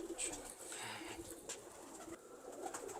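Soft, close cooing from fancy Teddy pigeons, a few low murmuring calls over a quiet background with faint voices nearby.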